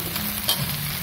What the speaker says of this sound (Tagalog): Aprito ko muna yung tokwa